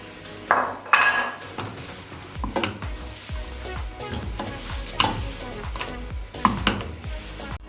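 Panjiri of powdered sugar and dry fruits is stir-fried in a pan, with repeated scraping and clanking of a spoon against metal over a soft sizzle.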